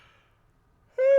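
A tired reader yawns partway through reading scripture aloud, a single brief breathy voiced yawn rising at the end after near silence.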